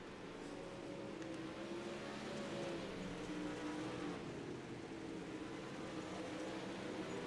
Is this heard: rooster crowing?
no